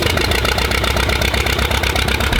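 A WWII-era DHC-1 Chipmunk's propeller engine idles at low throttle, a loud, close, steady rhythmic drone with a fast even beat and no talk.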